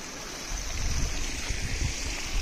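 Clear, pure stream water near Adimali rushes steadily and close, a continuous broadband wash with no voices over it.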